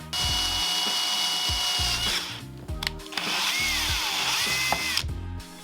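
A power drill whirs steadily as it bores into plastic BMX pegs, pitch wavering under load, with brief pauses and clicks between runs.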